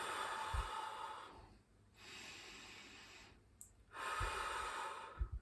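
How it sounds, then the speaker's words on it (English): A person meditating takes a slow deep breath in and lets it out, close airy inhales and exhales in a calm, quiet setting, with no talking. "You just sit, you take a deep breath,"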